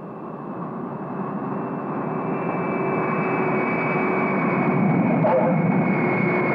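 Cartoon airplane engine droning steadily as the plane comes in to land, a sustained roar that slowly grows louder, with no talk over it.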